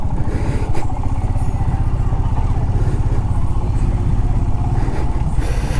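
Tractor engine chugging on a rain-soaked forest village road near Chintalapadu, a loud, steady mid-pitched rumble with rapid rhythmic knocking and some rattling throughout.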